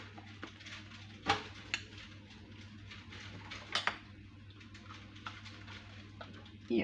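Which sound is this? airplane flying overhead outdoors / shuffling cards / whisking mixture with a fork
whisking mixture with a fork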